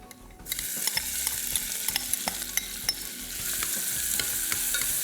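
Onions sauteing in a pan for Goan fish curry, a steady bright sizzle broken by repeated sharp clicks and scrapes of stirring, close and with no talking.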